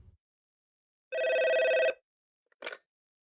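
A telephone bell rings in one clear burst of about a second, followed by a shorter faint ring-like tone in an otherwise silent setting.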